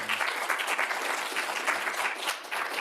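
Loud, sustained applause from a large crowd at a civic leadership award ceremony, steady clapping throughout with no pauses.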